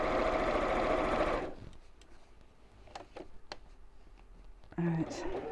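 A sewing machine stitches across flannel, its steady rapid mechanical whir loud and close for about a second and a half before stopping, followed by quieter room sounds, light taps and a short hum near the end.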